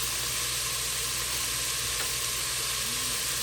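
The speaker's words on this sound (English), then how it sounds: "And then drop the green beans in." Four pounds of Food Line brand green beans hit a hot pot, giving a steady, even sizzle and frying hiss that holds level throughout with no talking.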